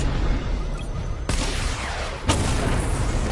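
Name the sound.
missile barrage firing in a Batman video game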